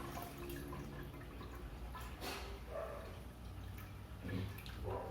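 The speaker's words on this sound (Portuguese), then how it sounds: "nós vamos repor a água aos pouquinhos" Water slowly poured back into a home aquarium from a container gives a soft, faint trickle with scattered light drips and splashes, steady and quiet throughout.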